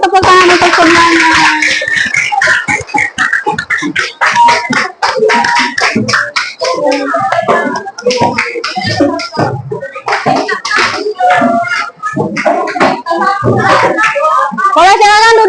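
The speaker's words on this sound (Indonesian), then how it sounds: "tepuk tangan untuk semuanya." Children in a classroom clap in a burst of applause mixed with lively kids' chatter and shuffling, close and loud, with talking throughout.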